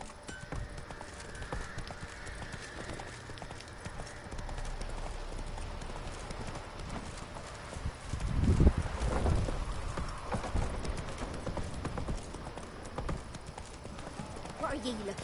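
Horse hooves clip-clop in The Witcher 3, a steady rhythmic plodding that swells to a louder, closer burst midway, with game ambience and a voice speaking over it.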